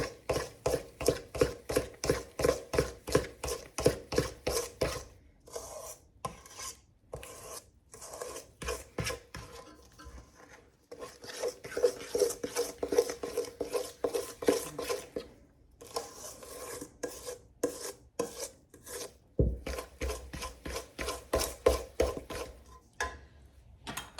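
Chocolate chip cookie dough is stirred with a spoon or spatula in a bowl, making a steady, rhythmic scraping and rasping that comes in repeated strokes with short pauses.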